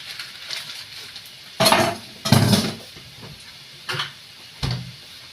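Butter being stirred into chicken pastil in a pan, with several separate scraping, clinking bursts of a utensil against the pan over a faint sizzle.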